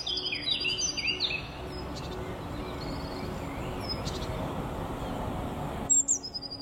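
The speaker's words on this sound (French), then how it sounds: "chant des oiseaux" Bright chirping bird calls in short bursts over a continuous wash of spring water running through a wetland, with a few more chirps near the end.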